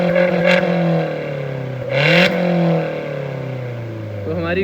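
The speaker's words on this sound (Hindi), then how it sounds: "और एग्जॉस्ट कैसा है अभी आपको एक बार सुना देता हूँ साउंड" A Suzuki Jimny with a straight-pipe exhaust and a Remus tip rumbles at idle and is revved twice, each blip swelling into a loud, raspy roar before settling back. The car is close by.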